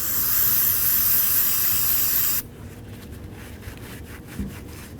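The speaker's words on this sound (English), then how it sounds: "Now let's go ahead and clean up this slider pin." A rear brake caliper slider pin from a 2000-2005 Buick LeSabre is cleaned. A loud hissing spray runs for about two seconds, then gives way to quieter, rhythmic scrubbing and rubbing with a small knock near the end.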